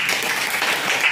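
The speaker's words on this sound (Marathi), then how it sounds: "हिच्यासाठी पण टाळ्या वाजवा जोरात" Schoolchildren in a classroom applaud a classmate with a brief, dense burst of quick clapping from many small hands, fairly loud and continuous.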